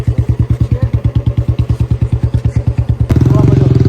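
Motorcycle engines pull away on a village night ride, a steady rapid chugging pulse close by that shifts into a denser, higher-revving drone near the end, with no talk over it.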